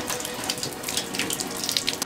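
Water pours steadily from a bathtub spout in a home under renovation, a continuous broadband rush with no voices, close and even throughout.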